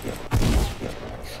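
Gunfire from a gun in the Roblox game Da Hood: a loud, dense burst of shots lasting under half a second, with softer game sounds around it.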